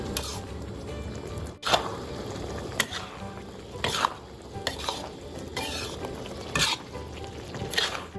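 A spatula scrapes and stirs a thick, sticky palm-sugar and pork filling for sago dumplings in a wok, with steady close scraping, a faint sizzle underneath, and several sharper clacks of the utensil against the pan.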